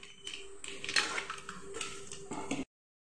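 Mustard seeds, with urad dal, popping in hot oil in a pan while tempering for tamarind rice; a dense, steady run of small crackles and sizzling spits lasting a few seconds, then cutting off abruptly.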